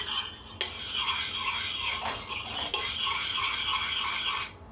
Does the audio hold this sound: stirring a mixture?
yes